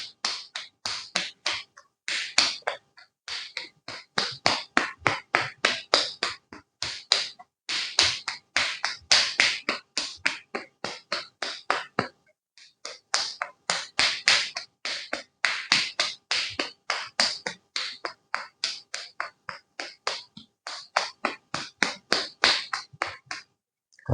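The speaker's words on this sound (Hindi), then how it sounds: "ताली बजाएं।" Hands clap rhythmically in an acupressure exercise, a long run of sharp, close, evenly spaced claps in quick bursts with brief pauses between sets and no talk.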